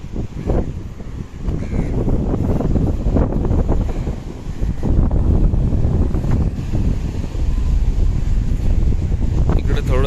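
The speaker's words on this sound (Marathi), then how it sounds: "वारा खूप आहे मित्रांनो" Strong sea wind rumbles and buffets the microphone at a seaside fort by Harne harbour, a continuous low roar with faint surf-like wash beneath it.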